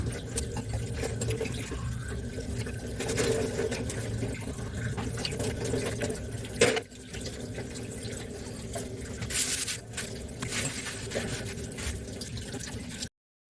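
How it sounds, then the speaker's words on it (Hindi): Water poured over a floor corner to wash away sand makes a steady, close splashing and dribbling that runs without a break, with a few brief sharper knocks and no talking. "फिर मैंने पानी डाल के धोया,"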